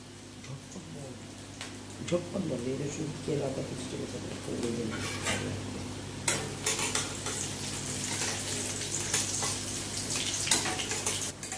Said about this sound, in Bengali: এই রসুন কুচি আর আদা কুচিটাকে আমি একটু লালচে লালচে করে ভেজে নেব